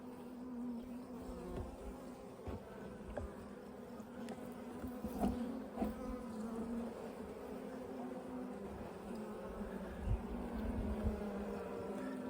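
Honey bees buzz in a steady, quiet hum during an inspection of a package colony's hive, with a few louder passes close by as single bees drift near, and no voices over the drone.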